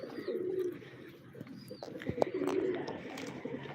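Chinese owl pigeons kept at home coo softly in low, rounded phrases, two or three murmured calls near the mic over faint background noise and rustling.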